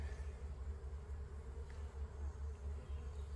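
Honeybees crawl over a hive frame where new bees are hatching during a midsummer apiary inspection, giving a steady, faint low drone that holds evenly throughout with no voices.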